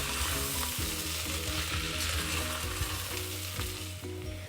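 Dalia khichdi with turmeric and salt is stirred in a hot pan, giving a soft continuous sizzle and scraping under a steady low background hum.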